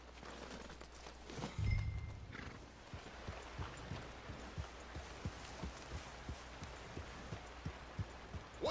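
In the video game Red Dead Redemption 2, a horse whinnies, then hooves clop in a steady walking rhythm, fairly faint and close, over a low background hum.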